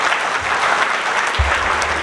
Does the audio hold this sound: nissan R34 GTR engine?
no